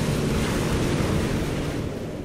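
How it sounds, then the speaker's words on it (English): Surf at Pipeline breaking and barrelling over a shallow reef: a continuous loud wash of rushing water with wind buffeting the microphone, no voices. "It comes in from really deep water, it hits the shallow reef, and it just barrels."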